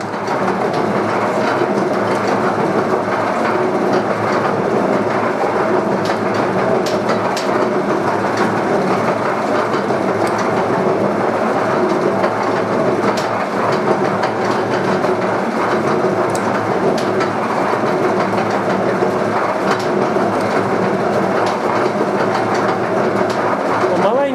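A metal lathe machines a differential part for an electric bike, taking a 2 mm cut, and produces a loud, steady whirring and grinding drone that runs without a break for over twenty seconds.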